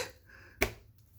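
A single sharp clap rings out clearly against a quiet room, one brief snap-like hit with a short decay and nothing after it.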